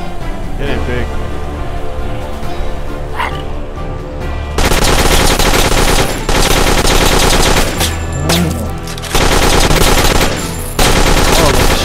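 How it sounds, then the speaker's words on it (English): Shotgun blasts in the farm-defense video game Dead Acres, loud repeated booming bursts arriving in clusters over steady game noise, with a voice talking underneath. "Oh, the shotgun."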